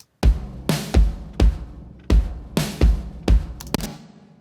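Drum kit with the direct close-miked tracks blended with a parallel compression bus: about nine punchy, loud hits in a steady groove, each with a sharp attack and a short sustained tail, and no voices.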